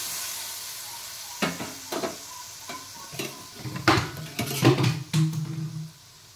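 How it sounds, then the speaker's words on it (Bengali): Fish and potato pieces with spices stirred in a frying pan: a soft sizzle under a run of clattering scrapes and knocks of a utensil against the pan, growing busier toward the end, close with no voices. "তো এবার আমি একটু নেড়ে চেড়ে বন্ধুরা মিশিয়ে নিচ্ছি"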